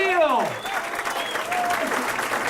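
Audience applause fills a comedy club at the close of a stand-up show, steady sustained clapping from a full crowd, with an emcee's voice speaking over it at the start.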